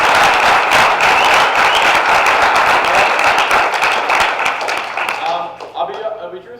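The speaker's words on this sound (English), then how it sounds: "Let's give him a round of applause." A business presentation audience breaks into loud, sustained applause that fills the room, dense clapping that holds steady before thinning out toward the end as a voice starts to speak.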